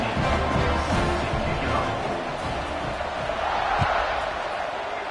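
Stadium crowd at a football game kickoff, a steady loud roar of many voices filling the space, with a commentator talking over it.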